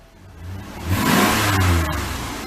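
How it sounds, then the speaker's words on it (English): A Ford Explorer's V6 engine, raised on jack stands with its wheels removed and running on fresh gas, revs up from a low rumble into a loud, throaty sustained roar, then eases off slightly at close range. "Sounds like a V6, but I mean it's a little throaty."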